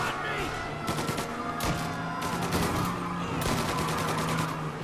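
Gunfire rattles during a bank robbery car chase in Mafia: Definitive Edition: rapid, repeated bursts of shots in clusters over a steady engine drone, close and loud.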